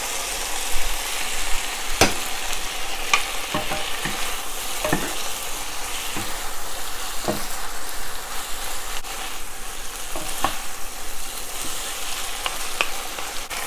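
Szechuan eggplant stir-frying with pepper and sauce in a hot pan gives a steady loud sizzle, broken by sharp clanks and scrapes of the utensil at irregular intervals.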